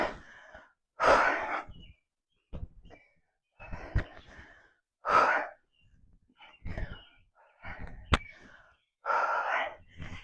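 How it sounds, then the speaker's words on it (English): Forceful exhales and breathing bursts during a core and strength workout, several sharp puffs of breath at irregular intervals, fairly close but moderately quiet, separated by silence. "You can hear that nice big exhale."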